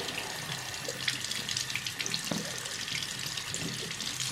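Warm tap water runs steadily from a faucet in a close, continuous splashing stream with no talking.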